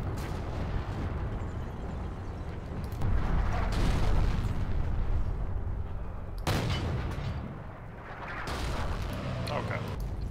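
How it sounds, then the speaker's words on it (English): Artillery shelling in the multiplayer game Forgotten Hope 2, heavy rumbling explosions and booms across a continuous battlefield din, with sharp blasts near three and six seconds and a voice speaking over it. "Shelling there due to the commander artillery."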